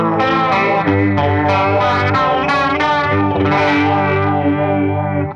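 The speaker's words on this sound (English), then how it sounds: "I can also add this phaser, dual phaser thing." A guitar runs through the dual phaser of a Catalinbread Bitters multi-effects pedal, sustained chords swirling with sweeping, shimmering modulation, loud and continuous with no talk.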